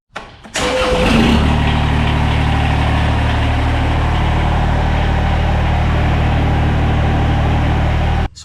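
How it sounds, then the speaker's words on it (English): A Kubota BX2680 compact tractor engine cranks, catches and settles into a steady, loud, close idle that runs until it cuts off abruptly at the end, with no talking. "I'm gonna turn the tractor on"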